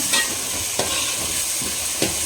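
Kerala-style chicken curry with freshly added curry leaves being stirred in a pan: a loud, steady close sizzle with a spoon scraping through about every three-quarters of a second.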